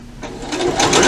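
A sewing machine stitches the side seam of a ribbon skirt, a loud, close, steady mechanical whir that quickens slightly as it runs.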